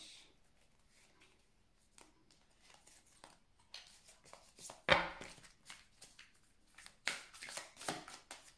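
Tarot cards shuffled and cut by hand, soft riffling and scattered slaps and taps that start sparse and quiet, then grow busier and louder toward the end, with no talk.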